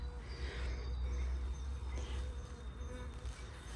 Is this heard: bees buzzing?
yes